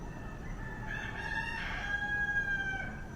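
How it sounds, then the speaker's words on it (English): A rooster crows in Oahu, Hawaii, one drawn-out cock-a-doodle-doo rising and falling over steady outdoor background noise, at moderate distance with no talking. "I can already recognize some of the roosters"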